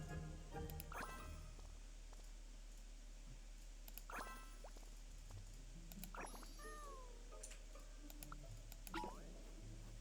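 Cat meows in a Genshin Impact event play out as several short, sliding mews spread over steady background game music, with clicks and light dripping sounds between them.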